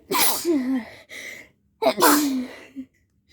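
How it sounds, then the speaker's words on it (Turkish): Two loud sneezes burst out close to the microphone, separated by a short pause, followed by a faint sniff. "çok hapşırasım geldi"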